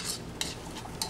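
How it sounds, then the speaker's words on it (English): A utensil stirs and mixes salt and pepper seasoning for salmon, making soft scraping strokes with a few brief clinks, heard alone and up close. "So what I would do now is I just mix this up a bit here."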